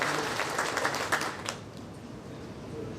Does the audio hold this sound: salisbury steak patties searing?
no